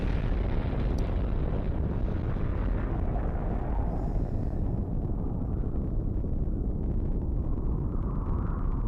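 A loud, sustained explosion sound effect in a song roars as a dense rumbling blast, sweeping and slowly fading with a windy, turbulent texture and no voices.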